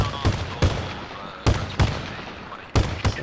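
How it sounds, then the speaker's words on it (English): Armored LAV vehicle firing its cannon in a video game, heard as six sharp reports in pairs, spaced about a second apart over a steady background rumble. "That's LAV shooting."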